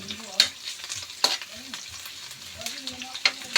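Garlic fries in a pan, a close, steady sizzle broken by the scrape and clatter of stirring utensils.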